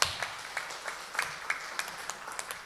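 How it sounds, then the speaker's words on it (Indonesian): An audience at an Islamic religious gathering breaks into applause, a dense patter of many hands clapping at once with a few sharper claps standing out, moderately loud and steady before trailing off. "Tepuk tangan untuk Ibu Murniati."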